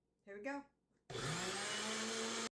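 Electric mixer beating pudding liquid in a bowl, a steady loud whir running for over a second after a brief voice, then cutting off sharply.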